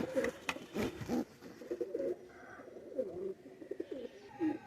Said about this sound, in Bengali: এটা চোখ লাল নীল দম্বার একটা নর কবুতর